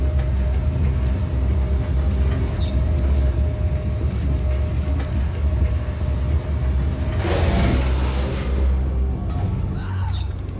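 A train rumbling in the sci-fi horror video game Dead Space 3, a steady low mechanical drone of moving rail cars with a brighter clattering swell near the end, continuous and fairly loud.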